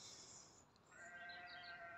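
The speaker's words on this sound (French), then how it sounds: "Vous entendez les moutons? C'est les moutons qui me répondent." Sheep bleating outdoors on a cold, overcast day, a single drawn-out wavering bleat rising in the second half, moderately distant and faint, with no talking.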